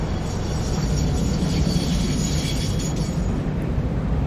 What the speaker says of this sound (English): And here it finally comes. Rolling in. See those vents opening up as it's trying to stop.